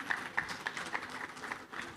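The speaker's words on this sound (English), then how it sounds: "a round of applause for Hamza Hashmi and the TerraBiz team" An audience at a business workshop on digital SME lending claps steadily for a short stretch, the applause moderately loud and fairly even in rhythm.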